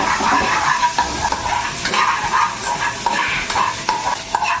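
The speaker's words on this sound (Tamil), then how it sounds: "எல்லாம் நல்லா வெங்காயம் நல்லா வதங்கணும்." Onions sautéing in a kadai on the stove, a steady sizzle with repeated scraping stirs at a close distance and no talking.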